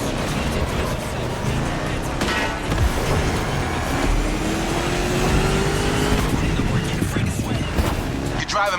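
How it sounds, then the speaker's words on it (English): A 1969 Mustang Boss 429 drives in the racing game The Crew Motorfest, its engine a steady, gravelly roar with rising tones and faint tire noise, while voices talk over it. "You're driving my #1 car, the star of my collection, the 1969 Mustang Boss 429"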